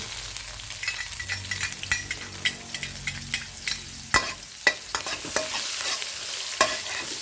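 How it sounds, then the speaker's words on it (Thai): Shrimp stir-fried with holy basil in a pan, a steady close sizzle broken by repeated scraping and clanking strokes of a utensil against the pan, with no talking. "ต่อไปเราก็จะทอดผัดกะเพรานะครับกะเพรากุ้ง"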